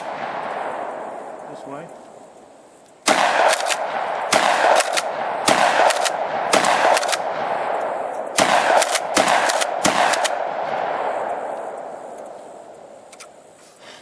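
A UTAS UTS-15 shotgun fires a rapid string of loud, close blasts in bursts, each shot sharp and booming, with brief pauses between groups and someone speaking briefly before the firing starts.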